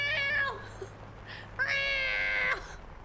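A human voice imitates a deaf, senile cat's loud nighttime yowl: two drawn-out, wavering cries, the second longer and stronger, with no other talking.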